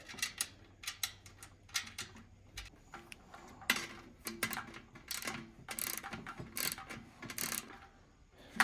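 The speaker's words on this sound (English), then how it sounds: "come back and put our little screws in" Small screws being driven in by hand while assembling an outdoor heater, a run of quiet ratcheting clicks and mechanical ticks with a few louder scraping bursts, close by and without speech.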